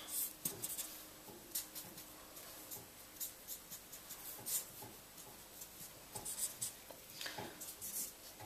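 A permanent marker squeaks and scratches across paper in short irregular strokes, close and quiet, with pauses between bursts of drawing as lines are added to a copy of a John Virtue artwork.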